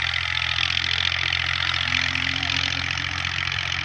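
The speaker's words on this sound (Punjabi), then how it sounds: "ਦੋ ਟਰੈਕਟਰ ਇੱਥੇ ਅੱਗੇ ਬਾਈ ਚਲਾ ਰਹੇ ਨੇ, ਇੱਕ ਹਲ ਚਲਾ ਰਿਹਾ, ਇੱਕ ਖਾਲੀਆਂ ਕੱਢ ਰਿਹਾ" Two tractors work a farm field nearby, one ploughing and one cutting furrows, their engines giving a steady, continuous mid-pitched drone with no talking.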